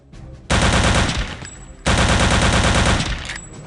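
Two long bursts of rapid automatic rifle fire from Return to Castle Wolfenstein, loud and close, each roaring for over a second with a brief pause between, no talking.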